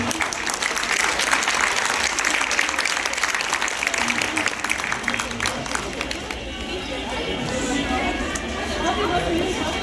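A school audience applauds teachers at a farewell ceremony. Dense, loud clapping runs for several seconds, then thins into scattered claps and crowd chatter.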